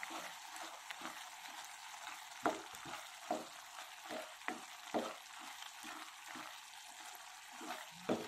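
Curry with cumin and coriander powder being stirred in a pan, with a steady quiet sizzle and bubbling and intermittent scrapes and taps of a spoon.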